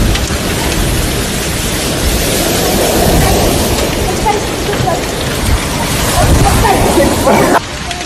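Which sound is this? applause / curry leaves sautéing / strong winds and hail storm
strong winds and hail storm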